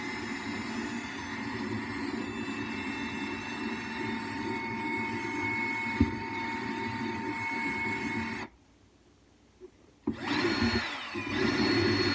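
A drill with a grinding stone bit roughens a kitchen sink surface, giving a steady close whine that cuts out briefly and then starts again.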